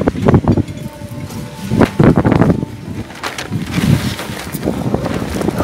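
Strong wind buffeting the microphone in rumbling gusts, with some rustling in the background.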